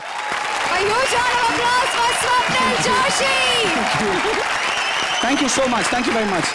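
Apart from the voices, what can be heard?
studio audience applause on comedy show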